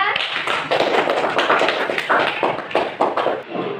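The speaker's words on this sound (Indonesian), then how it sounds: "Beri tepuk tangan untuk kelompok 2." An elementary school class of fifth graders claps for a group of classmates, a dense burst of many small hands applauding steadily and fairly close, lasting several seconds before tapering slightly.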